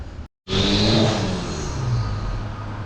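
A VW Mk7 GTI fitted with a blow-off valve and ECS spacer drives up and down the block. After a brief cut, its engine comes in loud and close, revving steadily as the car pulls away.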